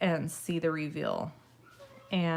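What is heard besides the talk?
No everyday noises stand out.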